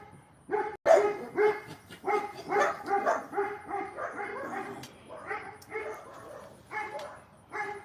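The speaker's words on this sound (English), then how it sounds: "Oh my God, all the dogs are going crazy tonight." Several dogs bark repeatedly around a neighborhood at night, a steady run of overlapping barks with a few yips and whimpers, fairly close and loud, with a brief voice in between.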